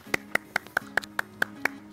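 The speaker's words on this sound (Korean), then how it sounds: "박수." Handful of distinct, sharp hand claps at a slow, even pace, about eight in two seconds, close and crisp over a faint low hum in an interview setting, no voices.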